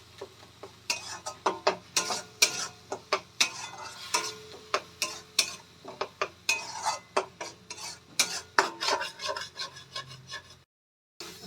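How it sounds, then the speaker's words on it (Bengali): Ginger and garlic paste is stirred and scraped in a pan with a metal utensil, repeated sharp clinks and scrapes in an uneven rhythm over a faint sizzle, close and clear, then a short sudden silence near the end. "এবার এটাকে আমরা যতক্ষণ এর কাঁচা গন্ধ আছে ততক্ষণ পর্যন্ত আমরা ভালো করে কষিয়ে নেব।"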